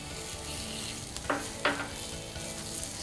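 Peppers, onions and sliced tomatoes sauté in a pan with a steady close-up sizzle, broken by two brief scraping accents from a utensil partway through.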